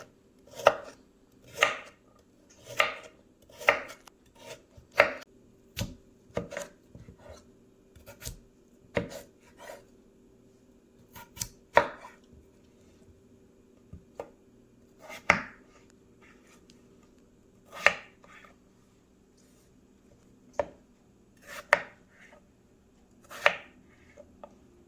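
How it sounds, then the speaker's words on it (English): A knife chops peeled carrots on a board in sharp, close, irregular strikes, clustered at first and then spaced further apart, with no talk. "These carrots are peeled and I am cutting them smaller than I would for the potatoes"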